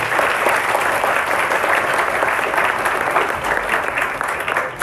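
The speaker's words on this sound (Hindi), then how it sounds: "एक बार अपने लिए तालियां बजाओ सभी बच्चे" A group of children clapping for themselves during a talk at a religious gathering, a steady, fairly loud wash of applause that continues without a break.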